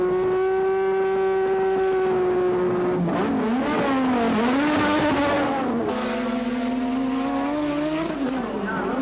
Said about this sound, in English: Mansell was off the jacks and away again just fast enough to stay ahead of Piquet in first place